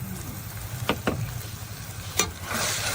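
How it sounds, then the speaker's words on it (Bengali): Spices with coriander powder and salt sautéing in a cooking pan, a low sizzle under a few sharp scrapes of a spoon stirring, growing hissier toward the end; no voices. "এবার আমি সুন্দর মতো মশলাটা কষিয়ে নেব"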